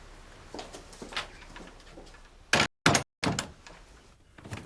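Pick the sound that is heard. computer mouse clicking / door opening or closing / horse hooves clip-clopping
door opening or closing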